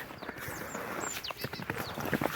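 A horse's hooves clip-clop on hard ground at a walking pace in Kosiv district, Ukraine, a steady run of close, uneven thuds with outdoor background noise.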